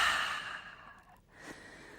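A long, deep breath let out slowly during a guided breathing exercise, a soft airy exhale that fades, then a second, gentler breath follows, close and alone with no talking.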